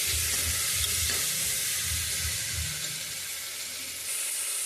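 Tomatoes with turmeric and salt stirred in a hot pan for tomato rice, a steady close sizzle and hiss with soft rhythmic scraping of the spoon, no voices.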